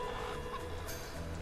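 A chicken clucks in the video game GTA V, with clear fowl clucking over a dense bed of game ambience and background noise.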